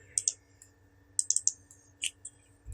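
Keys clicking on a computer keyboard while values are entered into an Excel spreadsheet: a quick pair of taps, a burst of four rapid keystrokes, then a few scattered presses over a low steady hum.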